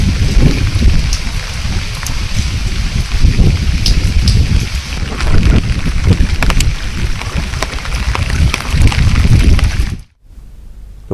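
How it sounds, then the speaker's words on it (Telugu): Heavy rain pours steadily in Nellore during a cyclone, a dense, loud, continuous hiss of drops with scattered sharper splashes, cutting off abruptly near the end. "అటు ఉమ్మడి నెల్లూరు, చిత్తూరు జిల్లాల్లో భారీ వర్షాలు కురుస్తున్నాయి"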